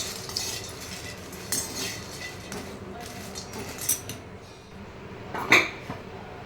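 A spatula scraping and tapping in a wok while cinnamon dry-roasts, with several sharp clinks and rattles spread through the stretch, a louder metallic knock near the end.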